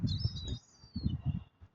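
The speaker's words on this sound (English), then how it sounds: "Trying to feed them, but it appears to have attracted the attention of every other form of bird life in the local area." Wild birds, seagulls and crows, calling around a swan family being fed ashore, with a thin high chirping line running over louder low rustling and scuffling bursts nearby.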